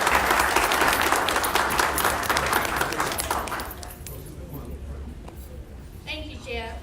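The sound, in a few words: audience round of applause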